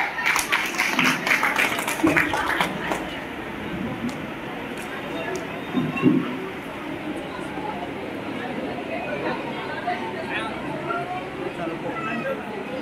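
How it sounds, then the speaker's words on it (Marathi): Audience applause and clapping at a magician's birthday party show, a loud burst of many hands in the first few seconds that fades into steady crowd chatter and murmuring voices. "जोरदार टाळ्या."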